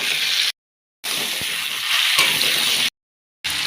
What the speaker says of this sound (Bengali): ফুলকপিগুলো দিয়ে ভালো করে ভেজে নেব।